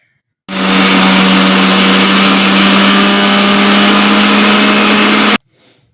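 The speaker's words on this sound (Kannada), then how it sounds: "ಈ ಮೆಣ್ಸಿನ್ಕಾಯಿನೂ ಆಮೇಲೆ ಈ ಅಗಸೆ ಬೀಜನೂ ಫಸ್ಟಿಗೆ ಮಿಕ್ಸಿ ಮಾಡ್ಕೋಬೇಕು." A kitchen mixer grinder roars loudly while grinding fried chillies and flax seeds, a steady high whine that starts abruptly, runs unbroken for about five seconds, then cuts off.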